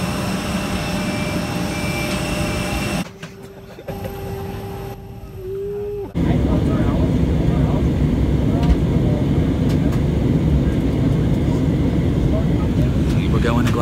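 Steady broadband engine roar inside an airplane cabin on a flight to Scotland, loud and continuous, with a brief quieter stretch and a rising tone early on before the full drone resumes.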